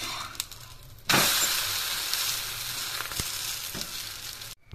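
Adai dosa sizzles and roasts on a hot pan, a sudden bright crackling hiss that starts loud and then fades slowly, with a few faint clicks, cutting off at the end.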